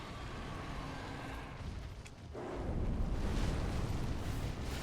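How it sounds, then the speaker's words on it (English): Morian Spear weapon art unleashed in Dark Souls 3 with the Convergence mod on a blood knight build: a low, dense rumbling roar that swells suddenly partway through and stays loud, with no voices. "I'll just show you the weapon art. The weapon art on this Morian Spear does tons of damage."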